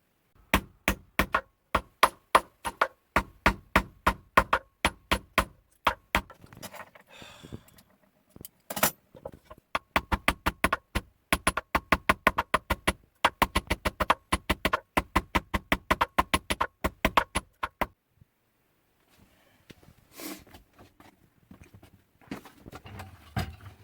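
A jeweller hammers a gold blank for an engagement ring in a rural workshop: sharp, close metallic strikes in rapid runs, pausing briefly between bursts, with no talk.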